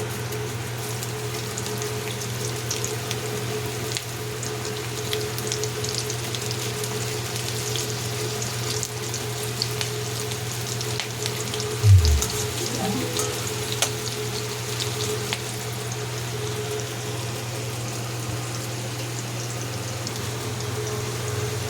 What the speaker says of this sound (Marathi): तशीच दुसरी पण भेंडी आपण फोडून घेऊया तेलामध्ये